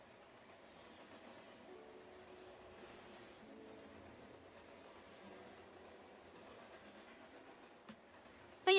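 A train rolls along a small railway with a steady low rumble and faint clatter of wheels, heard at a moderate distance and ending in a brief louder knock, with no talking.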